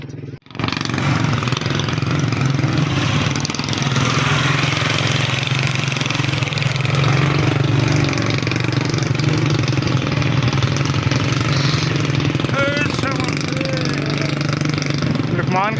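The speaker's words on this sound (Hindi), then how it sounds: "बाकी बाइकर भी आ गए स्लो स्लो।" Several motorcycles roll in slowly and sit idling on a forest road during a friends' trip through jungle and snow, a steady mid-pitched engine drone throughout with people talking over it.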